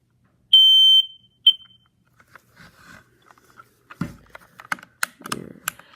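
A fireX I4618 smoke alarm gives a loud, piercing electronic beep, then a second short chirp, followed by quiet handling clicks and rustling nearby.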